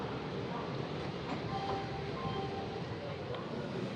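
An Indian freight train passes alongside, heard from inside a slow passenger train as a steady, loud rumble of wheels on rails with faint metallic squeals.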